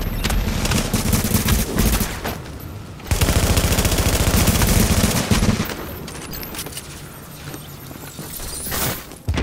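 Sustained video game gunfire on a fortification, dense rapid machine-gun bursts in loud close volleys with brief pauses between, rattling over background battle noise, and no talking.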